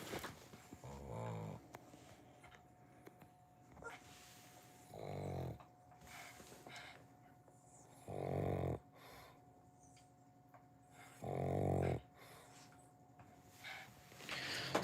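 A dog named Lola snores while sleeping, with four loud, drawn-out breathy snores at steady intervals about three seconds apart and quiet breathing in between.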